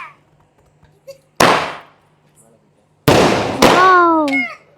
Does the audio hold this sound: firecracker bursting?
yes